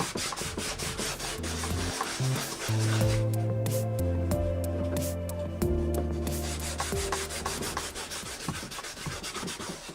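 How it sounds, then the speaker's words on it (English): Scrubbing down the rough plastic hull of a Tarpon 120 kayak: a steady close rubbing scour running throughout, with low tonal hum underneath. "Scrub it down."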